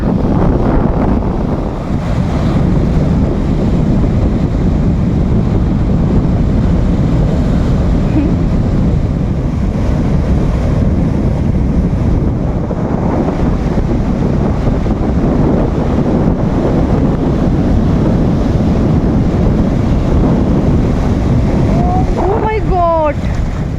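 Steady roar of wind and sea waves, loud and continuous, with wind buffeting the microphone throughout.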